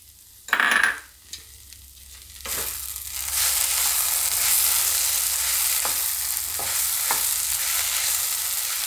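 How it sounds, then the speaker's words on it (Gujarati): Crushed peanuts dropped into a hot pan for farali handvo, an initial clatter giving way to a steady, close sizzle with a few stirring scrapes. "હવે એમાં આપણે આ શિંગદાણાનો ભૂકો નાખી દઈએ એટલે એ આપણે એમાં શેકાઈ જાય"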